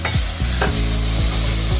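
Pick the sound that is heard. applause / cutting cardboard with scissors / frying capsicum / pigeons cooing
frying capsicum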